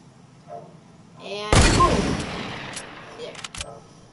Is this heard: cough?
no